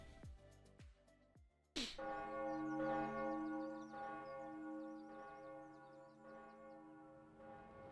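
Church bells ring in full, sustained peals with long overlapping resonance, heard faintly at a distance after a few earlier struck tones, with no talking.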